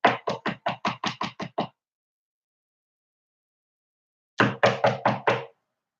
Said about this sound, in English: I'm knocking on the door.